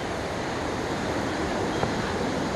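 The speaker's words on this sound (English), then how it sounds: "And the river is flowing." River water flowing along the Cedar Falls trail in Petit Jean State Park, a steady broadband rushing wash at moderate level, unbroken and without talking.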